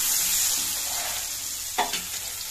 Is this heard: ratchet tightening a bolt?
no